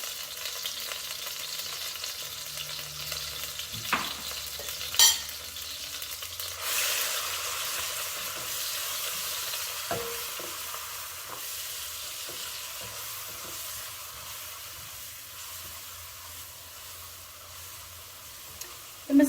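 Masala spice is stirred in a pan with tomato, ginger and garlic, giving a steady close sizzle of frying, with occasional scrapes and knocks from the stirring.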